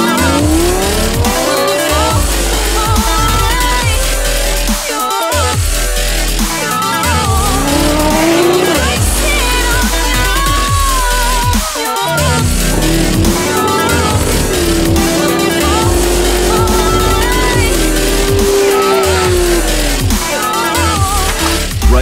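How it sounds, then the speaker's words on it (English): A blue 1993 Toyota Supra race car with over 1,000 horsepower runs at a Racewars event. Its engine roars and revs loudly and close throughout, with long tire squeals and skids rising over the continuous din. "Racewars sponsor ITP Racecars owner Jose was out with their striking blue 1993 Toyota Supra."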